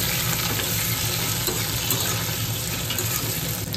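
Boiled potatoes, tomato and chili frying in a pan with fenugreek seeds, giving a steady, dense sizzle that holds throughout with no talk.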